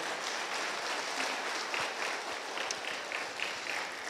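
A church congregation applauding together, a sustained wash of clapping from many hands heard at moderate distance, fairly soft overall.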